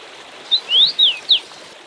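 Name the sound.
river stream and common rosefinch call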